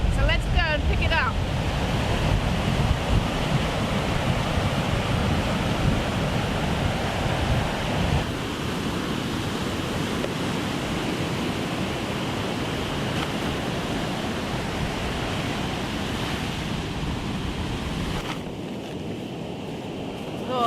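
Surf washing onto Woolleys Bay beach after Cyclone Debbie, with steady wind buffeting the microphone; a continuous, loud rushing roar with no talk.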